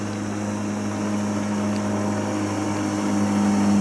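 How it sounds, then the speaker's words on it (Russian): An outboard motor on a fishing boat drones steadily up close, a constant low hum with a faint whine above it and no talk. "У меня мотор приблизился к берегу и траву намотал."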